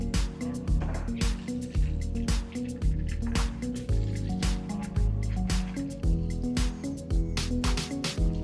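Ginger beer battered jewfish pieces lifted from the frying oil to drain, with steady dripping and trickling of liquid heard close up under a dense, continuous musical backdrop.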